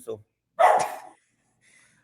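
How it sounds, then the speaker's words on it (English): Dogs indoors bark at someone outside: one short bark, then a louder, fuller bark after a pause, with a faint trailing sound, heard near and with a brief spoken word. "Sorry about my dogs, guys. They heard somebody outside."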